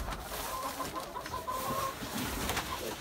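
Backyard chickens outside in extreme below-zero Minnesota cold give soft, low clucks and murmurs, faint and close against a steady hiss of wind and room noise.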